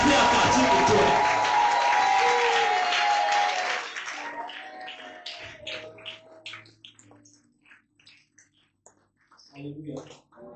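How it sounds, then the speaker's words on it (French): A church congregation applauding and acclaiming the Lord at a Sunday service, with loud sustained clapping and cheering that fades after a few seconds into scattered claps and voices. "j'aimerais que tu acclames le Seigneur fortement"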